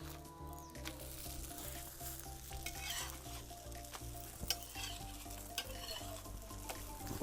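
Kerala nadan porotta sizzling and frying on a hot griddle stone with fat poured over it as it is flipped, a steady, close crackling sizzle throughout with occasional clinks.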